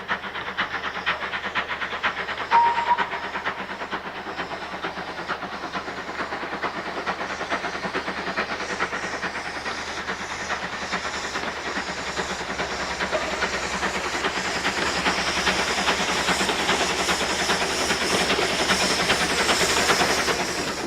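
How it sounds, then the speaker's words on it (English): A steam tank engine locomotive chugs steadily with rhythmic puffing and hissing, loud and close, growing slightly louder toward the end. "It's a tank engine."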